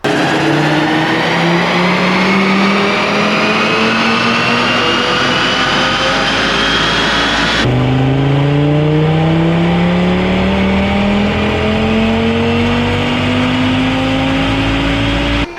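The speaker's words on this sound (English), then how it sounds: "Here we have Matt's APR tuned Stage 1 93 octane making great numbers." An APR Stage 1 tuned Audi RS3 on 93 octane runs hard on a dyno, its engine note climbing steadily through the gears with a sharp shift break midway, loud and close throughout.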